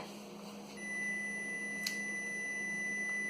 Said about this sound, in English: There it is, the buzzer, 10 minutes.